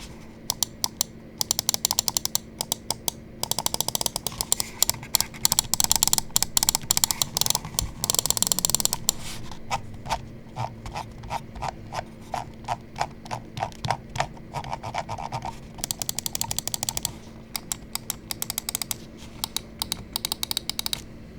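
Rapid, crisp clicks from a Fantech Tanto Pro gaming mouse's buttons, fired off in dense bursts with brief pauses over roughly twenty seconds, close and fairly quiet against a faint steady hum.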